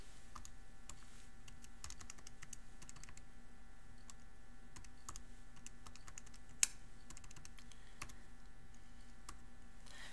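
Keys on a calculator are tapped in quick irregular runs of soft clicks, close and quiet over a faint steady hum, with a single sharper tap partway through and no talk.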